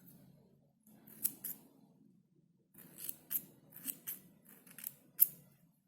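Scissors snip knitting yarn while baby booties are being finished, a few crisp close cuts in two bursts with short pauses between them, no one talking.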